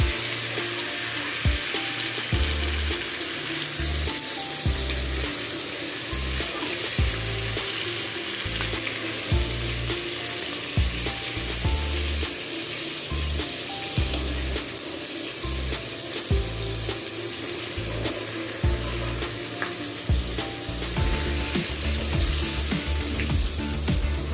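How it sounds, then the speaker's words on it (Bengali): Shrimp fry in hot oil with a dense, continuous crackling sizzle that holds steady and loud for the whole stretch, no speech over it. "চিংড়ি মাছগুলো আমার হালকা করে ভাজা হয়ে গেছে এবার তুলে নেবো"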